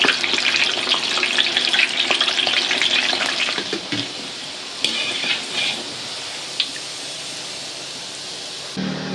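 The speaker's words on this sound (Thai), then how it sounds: "ให้เราทอดต่อไปเรื่อยๆ ให้ด้านนอกเหลืองกรอบกว่านี้ครับ" Tofu fries in hot oil with a steady crackling sizzle, close up, with a few louder pops and spatters as pieces shift.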